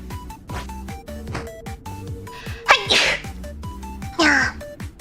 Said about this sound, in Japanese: 待って、くしゃみ出そう。